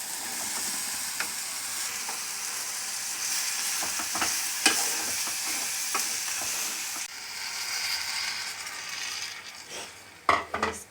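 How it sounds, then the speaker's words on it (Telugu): Onions fry with turmeric and chili powder in a pan for a broad bean curry, giving a steady soft sizzle with occasional scraping stirs and clicks of the spoon against the pan, close and alone. "ఉల్లిపాయలు పసుపు కొంచెం సరిపడినంత కారం వేసుకొని కాసేపు వేయించాలి"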